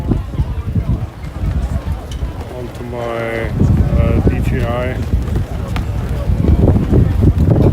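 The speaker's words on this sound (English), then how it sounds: "It's very windy here, folks" Strong wind buffets the microphone outdoors at the Hamvention flea market, a loud continuous low rumble under someone talking close by.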